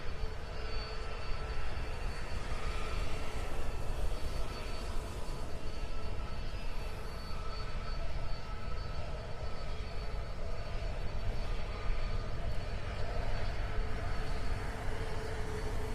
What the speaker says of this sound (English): So we'll see what happens to them after this C-17 leaves.